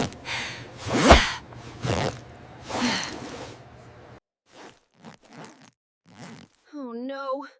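A jacket zipper tugs and catches in short rasping bursts, loud and close, stuck partway, with a few lighter scrapes after; a voice speaks briefly near the end.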